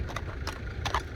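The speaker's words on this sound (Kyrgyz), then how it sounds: "Мынакей атты байкаңыздар чоң келишкен." Horse hooves clip-clop at a horse market in Batken, Kyrgyzstan, with a steady run of hoof beats over a constant, busy outdoor background.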